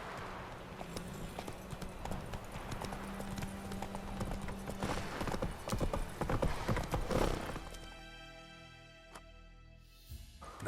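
Roach, the horse in The Witcher 3 video game, gallops with steady rhythmic hoof clatter under in-game ambience and music, then slows toward the end, where the hoofbeats fade into quieter scattered sounds.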